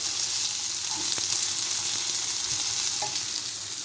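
Diced potatoes fry in a pan with a constant bright hiss, a couple of soft taps from a utensil breaking through; no one speaks.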